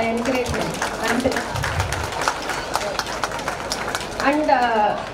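An audience at a Dasara arts and literature festival at the Sivaganga Sri Rajarajeswari Amman temple claps in steady applause, heard under a person talking over a loudspeaker.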